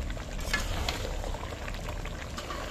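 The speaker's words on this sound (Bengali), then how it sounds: "একদম দেশি মাটন রান্না হচ্ছে" Desi-style mutton curry with chui jhal simmering in a pot, a steady bubbling and gentle sizzle throughout, close and moderately loud with no talk.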